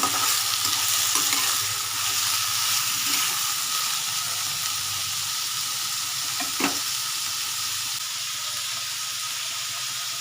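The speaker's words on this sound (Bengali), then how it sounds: "এগুলো একটু ভাজা ভাজা হবে" Diced potatoes and vegetables fry in refined oil for pav bhaji, giving a steady, close sizzle and hiss throughout, with occasional scrapes of stirring and no talk.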